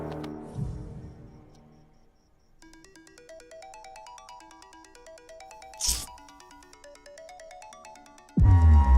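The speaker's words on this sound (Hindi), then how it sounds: "तुम्हारे नंबर से मुझे कॉल आ रहा है।" A mobile phone rings with an incoming call, its melodic ringtone repeating steadily at moderate volume in a quiet room, broken by a brief sharp rustle and ending in a loud thump.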